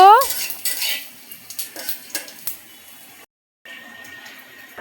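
A spoon scrapes and clinks against a pan as cumin seeds are stirred, several sharp metallic knocks and scrapes up close, then a brief pause before a quieter faint sizzle.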